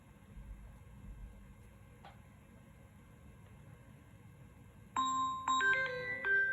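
A Samsung Galaxy A04s phone plays a short bright chime-like melody near the end, clear and close, after several seconds of faint hum with a single tick.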